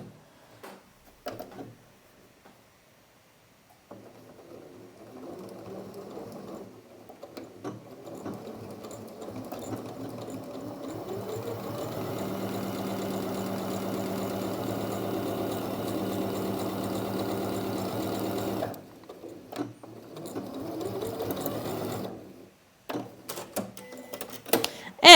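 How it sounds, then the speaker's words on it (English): A sewing machine runs a quarter-inch French seam on a garment ruffle, starting with short bursts, then settling into a long, steady stitching hum before stopping. It ends with a few more brief bursts, all close and clear with no talk. "now when I sew this seam with a 1/4 inch"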